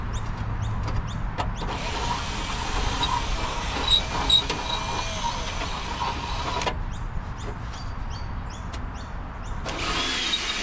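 A handheld power tool deburrs freshly drilled holes in a GX 300 series Landcruiser body for a Safari snorkel, whirring in two bursts, one long and one short, between quiet gaps.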